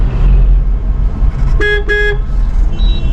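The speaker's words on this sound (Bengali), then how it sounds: "কাকে হর্ন দিচ্ছে নিজেই জানে না" Two short, loud car horn blasts in quick succession cut through steady road traffic and engine rumble, with a fainter tone following a moment later.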